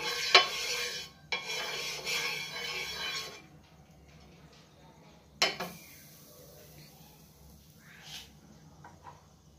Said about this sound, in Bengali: তো এই ফেটানো ময়দার এটা ঢেলে দিলাম।